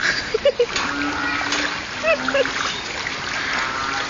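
Splashing through floodwater, with a few short sloshes and splatters close by while people talk and call out over a background hum.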